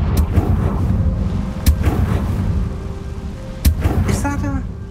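Confringo explosive spell and other combat spells in the Hogwarts Legacy video game, several sharp blasts and impacts over a rumbling battle bed, with a voice shouting between them.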